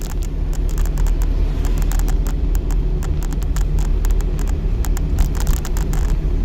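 Steady engine rumble and road noise from a car being driven during a driving lesson, continuous and close, with faint clicks and rattles over the drone.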